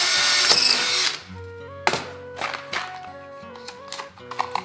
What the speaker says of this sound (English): allowing me to drill straight through the hole in the brass and right through the steel.